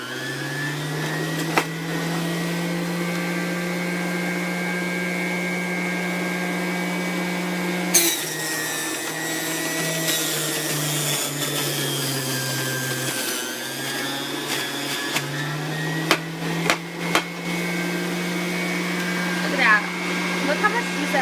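A Kuvings centrifugal juicer whirs with a steady, loud motor hum while celery is fed in, the pitch dipping and rising under load, with occasional clunks and rattles.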